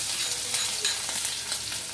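Chopped onions with cumin seeds fry in hot oil for chivda poha, a loud dense sizzle with crackling bursts and stirring noises, heard up close without talk.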